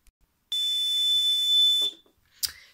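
A loud, shrill Legrand fire alarm blares in one sustained high-pitched tone for about a second and a half, then cuts off, followed by a brief chirp.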